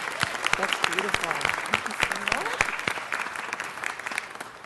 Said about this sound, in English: please give her a big round of applause, our friend Michelle Bonilla